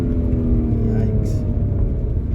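Audi engine in sport mode with revs hanging high, a steady loud drone with harmonic engine tones and intake rush filling the whole moment.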